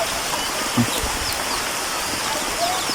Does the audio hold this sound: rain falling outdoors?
yes